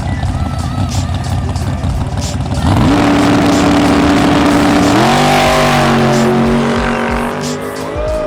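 A Hemi-powered pickup truck does a tire burnout: a loud, sustained engine roar climbs in pitch as the tires squeal and skid continuously for several seconds, close by and dominating the scene.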